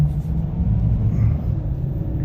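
A 2014 GMC Sierra pickup truck's engine pulls under light throttle with a low, steady rumble that swells gently, heard from inside the cab without any sharp revving.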